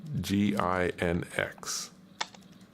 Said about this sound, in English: So let's type in Docker search nginx or nginx.